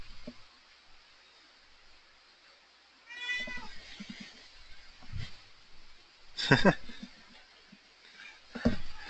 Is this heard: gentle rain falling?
no